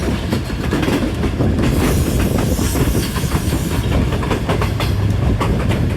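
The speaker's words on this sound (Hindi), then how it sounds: "और ट्रेन हमारी ऐसे सब फिर जो है ना मूव होकर स्टार्ट हो गई अपनी रावलपिंडी की जाए" Train pulling away towards Rawalpindi in heavy monsoon rain, steady loud rumble with rhythmic clickety-clack of wheels and a hissing wash over it, heard from inside the carriage.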